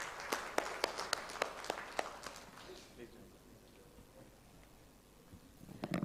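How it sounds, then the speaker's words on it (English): A few loud, separate claps ring out near the start at a summit event, then die away into a quiet hall with faint background noise, and a murmur rises at the end. "A big round of applause for both the speakers."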